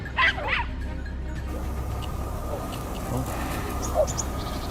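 A hunting dog chasing a wild boar gives a couple of quick yelping barks early on and one more brief yip later, somewhat distant over steady outdoor background noise.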